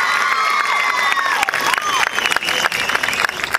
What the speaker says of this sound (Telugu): దయచేసి గట్టిగా చప్పట్లు కొట్టండి.